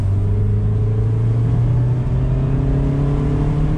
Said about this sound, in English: That naturally aspirated engine sounds so good.